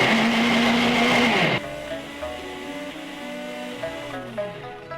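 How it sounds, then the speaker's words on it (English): A blender blending mung beans with sugar and butter whirs loudly for about a second and a half, then drops to a lower, steadier hum with shifting tones as it keeps running. "blend together"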